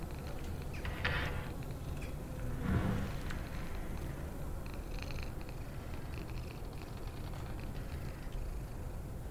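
Cat sounds in the video game Summer of '58, with a couple of faint, short meow-like cries over a steady low ambient rumble, somewhat distant and without speech.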